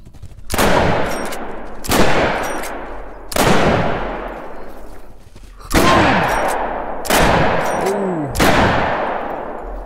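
A 10 gauge shotgun loaded with buckshot fires six loud, booming shots in a video game hunt in Call of the Wild, spaced about one to one and a half seconds apart, each blast ringing out and decaying before the next.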